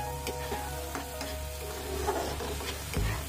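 Paste of mustard, poppy seed, green chili and cashew frying in hot oil for a Bengali pabda fish curry, a steady close sizzle with a few scraping stirs of a spoon, no talking.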